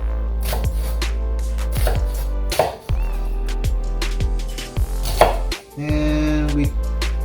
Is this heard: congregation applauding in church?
no